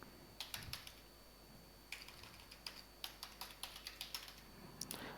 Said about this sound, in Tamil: நான் 7 சும்மா டைப் பண்ணிக்கிறேன்